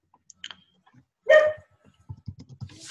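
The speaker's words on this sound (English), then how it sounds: "We've got a dog or something barking on here." A dog barks in a home garden, one loud bark standing out, followed by a run of quieter, rhythmic sounds, with faint clicks in the background.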